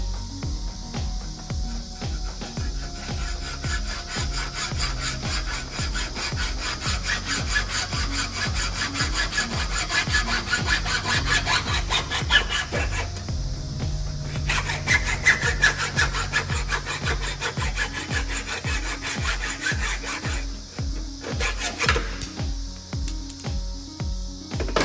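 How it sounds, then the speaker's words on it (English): Hand saw cutting a short section off plastic conduit, a steady back-and-forth rasp of rhythmic strokes, close and continuous, with a brief pause midway before the sawing resumes. "We'll take our conduit, chop off a section about 1 inch or so."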